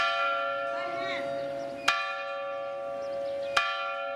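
Large cathedral bells ring out at noon in Gozo, Malta, in two loud, spaced strikes, each leaving a long shimmering hum that lingers between them.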